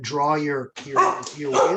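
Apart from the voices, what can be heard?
dog barking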